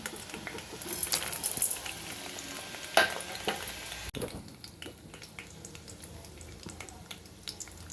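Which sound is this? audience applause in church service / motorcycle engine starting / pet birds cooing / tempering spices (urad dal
tempering spices (urad dal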